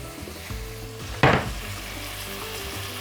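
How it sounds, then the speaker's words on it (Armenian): Whole spices dry-roasting in a frying pan give a steady close sizzle and crackle, with a sharper scrape or stir burst near the middle and another at the end. "Համեմունքները սկսեցին պարել տապակի մեջ"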